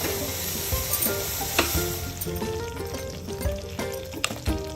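Raisins and cashews frying in ghee with semolina over low to medium heat, a close steady sizzle broken by spoon scrapes and clinks against the pan.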